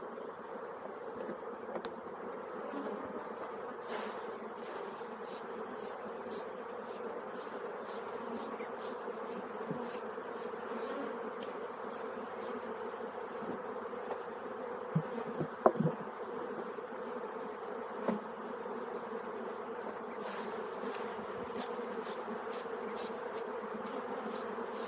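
A dense, continuous drone of many honeybees near open hives fills the air as frames are moved between colonies. The buzzing stays even and close throughout, with a few faint clicks and bumps.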